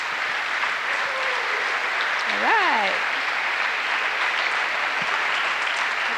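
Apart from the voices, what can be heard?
audience applause at a school show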